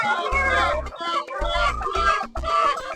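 Chickens cluck loudly and close in a coop while eggs are being collected, a busy run of overlapping clucks and squawks with a low rumble of handling beneath.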